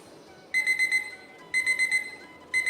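A cheap kitchen timer sounds off alone in three bursts, each a rapid run of shrill electronic beeps about a second long, spaced a second apart and fairly loud against a quiet room.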